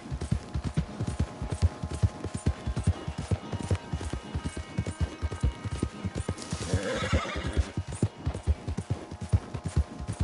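A horse galloping in Red Dead Redemption 2, with quick rhythmic hoofbeats pounding close throughout and a loud whinny rising over them midway.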